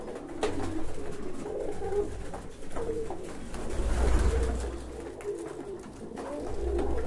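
Pigeons in a loft coo repeatedly in soft, overlapping calls over a low, steady background rumble.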